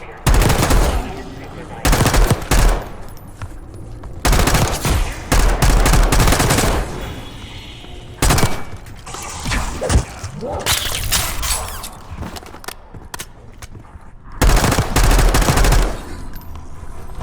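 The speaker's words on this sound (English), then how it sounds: "You hearing gunfire? Yeah. Sounds like it's coming from the door." Bursts of automatic gunfire and single shots from the shooter game Call of Duty: Black Ops 6, loud rattling volleys broken by short pauses, with glass shattering and faint voices mixed in.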